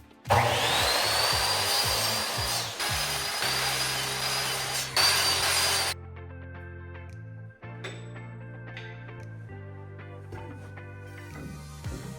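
Power saw cutting wood trim pieces for IKEA Billy bookcase built-ins, a loud steady whine for several seconds that cuts off abruptly, leaving a quieter tonal hum and a few clatters.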